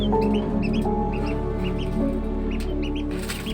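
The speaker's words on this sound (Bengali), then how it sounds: "আমার মুরগির বাচ্চা এবং হাঁসের বাচ্চাকে খাবার দিচ্ছি।" Baby chickens and ducklings cluck and peep in quick overlapping calls close by while being fed starter feed, a busy steady chatter with no voices.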